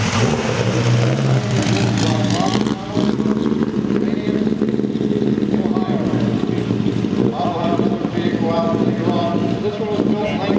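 A 1963 A.J. Watson championship race car, the aluminum-bodied Kaiser Aluminum Special with a 4-cylinder 255 cubic inch Offenhauser engine, at an AACA fall meet in Hershey. Its loud, steady engine drone holds for about ten seconds amid wind noise, with a brief dip early on.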